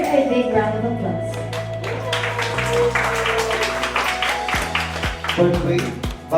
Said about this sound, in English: Let's give Mr. Hedger a big round of applause